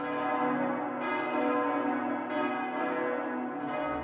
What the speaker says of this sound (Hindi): कैथेड्रल की घंटियां बजती।